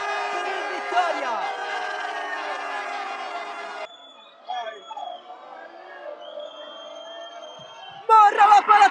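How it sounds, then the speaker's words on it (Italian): San Vito Lo Capo supporters roar at a Coppa Italia Promozione Sicilia final against Vittoria, under a commentator's continuous voice; the crowd noise stays distant, then bursts up loudly near the end. "esulta la tifoseria del San Vito Lo Capo"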